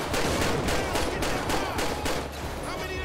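Rapid gunfire from Grand Theft Auto V gameplay, a dense run of loud shots with a steady rhythm over a busy game soundscape, sustained through the whole stretch.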